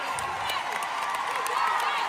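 A studio audience stands and claps, a steady wash of applause and crowd noise with cheering that holds at an even level through the whole stretch.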